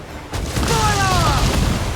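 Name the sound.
ship cannons firing in video game Assassin's Creed IV: Black Flag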